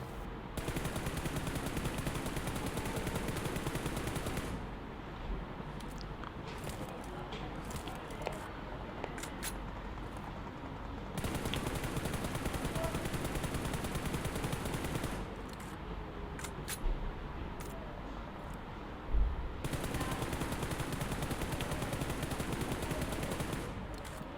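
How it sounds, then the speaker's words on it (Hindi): Rapid automatic gunfire in PUBG Mobile while the player keeps moving, loud continuous bursts with short breaks, heard alone and close up. "इस तरह ये चल भी रहा हूँ और फायर भी कर रहा हूँ"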